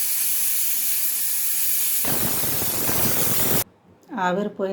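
Loud, steady hiss of steam escaping from a pressure cooker, growing rougher midway, then cutting off abruptly as a voice begins speaking.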